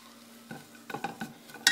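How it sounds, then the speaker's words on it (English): Vegetables sauté briefly in a pan while a utensil stirs and taps the pan several times over a low, steady sizzle, close by with no talking. "So I'm just going to saute this for like about a minute."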